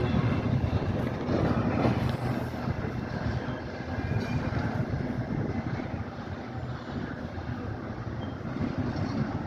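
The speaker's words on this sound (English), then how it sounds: "There's a train." A CSX freight tanker train rolls past close by as a steady, loud rumble of wheels and cars, with faint squeal and clatter and no voices.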